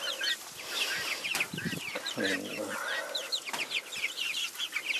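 Farm chickens cluck and chatter through most of the stretch, near and fairly loud. A voice talks briefly partway through.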